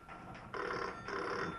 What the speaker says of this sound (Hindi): आशा जी, जरा देखिए किसका फोन है।